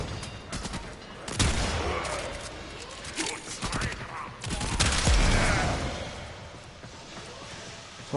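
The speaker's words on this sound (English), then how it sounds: "Someone's shooting missiles at me." Missiles fired at the player in the video game Warframe, with repeated booming blasts and rumbling impacts over a couple of seconds amid dense combat noise, loud and close.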